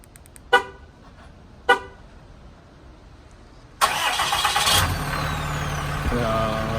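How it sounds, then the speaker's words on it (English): Truck engine starting: two sharp clicks, then the starter catches and the motor roars to life, settling into a loud, steady idle. "I am going to start my truck up."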